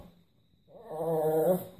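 A small Miniature Pinscher gives one drawn-out, low, growly bark-like howl, fairly close, with no talking around it.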